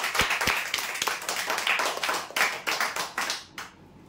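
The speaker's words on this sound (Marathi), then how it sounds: "जोरदार टाळ्या देण्यासाठी" Loud, dense applause for prize winners at a weekly lottery draw, many hands clapping together in uneven bursts for about three and a half seconds before the clapping quickly fades out.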